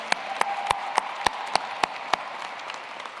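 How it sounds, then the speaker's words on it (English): Commencement audience applauds a speaker, broad crowd clapping underneath a run of loud, evenly spaced close claps from one pair of hands, the sharp claps stopping before the crowd tails off. "join me in another round of applause for our commencement speaker, Mr. Thomas L. Ransom"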